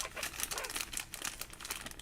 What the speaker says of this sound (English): I'm gonna go ahead and choose one in this random plastic bag right here.